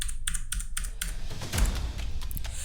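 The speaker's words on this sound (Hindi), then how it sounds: "यहाँ पे आपको अपने जो सिस्टम का पासवर्ड है वो यहाँ पे आपको टाइप कर देना है" Keys clatter as a password is typed on a computer keyboard, a close series of quick taps in irregular bursts with short pauses.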